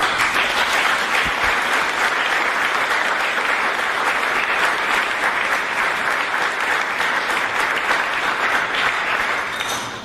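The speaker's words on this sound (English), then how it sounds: "please give the entire steering committee a great round of applause." A large audience at a children's charity gala gives a strong, sustained round of applause that lasts about ten seconds and fades slightly at the end.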